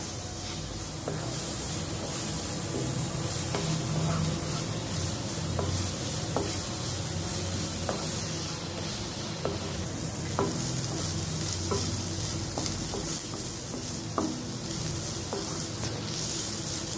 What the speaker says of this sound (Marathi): गॅसचा फ्लेम हाय करून कांदा मऊ होई तोपर्यंत तेलात चांगला परतून शिजू द्यावा